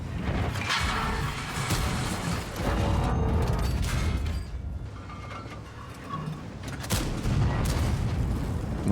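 A T30 tank gun fires in World of Tanks, a heavy boom set among loud battle noise, mechanical clanks and other bursts of gunfire that keep the whole stretch dense and busy.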